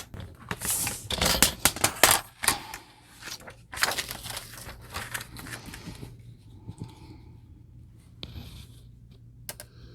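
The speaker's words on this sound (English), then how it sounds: "So I've got my paper trimmer." A paper trimmer slices through planner pages in several scraping, rustling strokes, loud and close at first, then quieter shuffling and a few sharp ticks.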